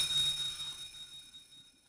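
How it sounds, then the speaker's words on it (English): A small charm bell rings in the Never7 video game, giving a single thin, high chime that starts the moment and fades away quietly. "the bell in the charm rings loudly"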